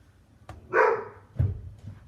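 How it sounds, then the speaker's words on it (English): A pet dog barks in the background, a couple of distinct muffled barks with quiet gaps between them, fairly distant and alone. "That's my dog barking in the background."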